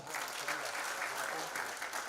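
An audience at a health sciences institute graduation claps continuously and fairly loudly, with a speaker's voice carrying over the applause.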